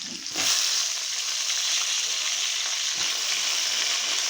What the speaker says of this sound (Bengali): সিম বেগুন দিয়ে একসঙ্গে ভেজে নেব